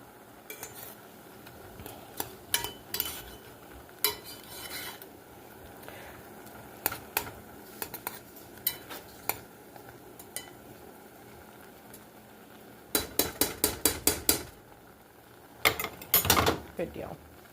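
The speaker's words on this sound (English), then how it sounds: "Give it another good stir." A utensil stirs boiling mullein in a metal pot with repeated close scraping clinks and knocks, sparse at first, then a rapid run of strokes near the end, with a voice speaking at times.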